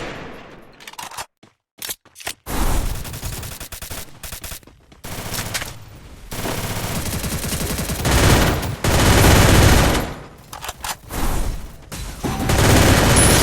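Rapid automatic rifle fire from the mobile battle royale game Free Fire, loud bursts of gunshots repeating across the clip with brief pauses between volleys.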